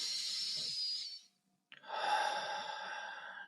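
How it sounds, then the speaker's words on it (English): Deep, slow breathing recorded close and quiet: a long airy inhale, a short pause, then a fuller, louder exhale. "Deep inhale and exhale."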